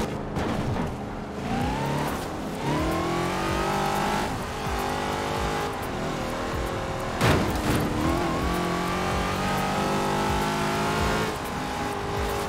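Stock-engine car in the Forza Horizon 4 drifting game revving hard, engine pitch climbing and dropping through gear changes with bursts of tire squeal, loud and continuous.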